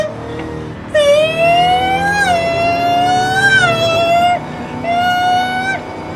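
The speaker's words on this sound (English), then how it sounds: "Hear that supercharger whine?" A supercharged drift car's whine rises and falls in long sweeping pitch glides, loud and close, over engine rumble with short gaps between pulls.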